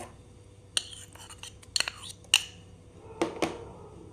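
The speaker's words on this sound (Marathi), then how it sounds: "इथे मी एक मिक्सरचा पॉट घेतला आहे आणि त्याच्यामध्ये हे मूग घालून घेते" Sprouted moong beans rattle into a mixer jar in a few short, sharp clinking bursts spaced apart against a quiet background.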